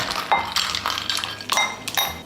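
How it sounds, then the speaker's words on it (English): Ice cubes clinking and tumbling into a glass while a pomegranate and coconut water drink is assembled, several bright close clinks in quick succession with a low background hum. "And then some ice."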